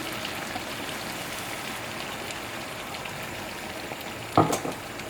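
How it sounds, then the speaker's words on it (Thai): Hot water pouring into a pan of spicy catfish curry makes a steady, continuous rush that lasts throughout, with a short clatter near the end and no talking. "ใส่น้ำร้อนนะคะเอ๋เอาน้ำร้อนใส่ลงไป ให้เขาสุกพอให้เขาเดือดสักพักนึง"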